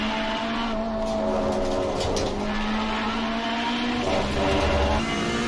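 Ferrari 488 EVO race car in Assetto Corsa Competizione at Spa, a steady loud engine drone with shifting pitch through a downshift and corner, tire noise underneath, continuous and close with no talk.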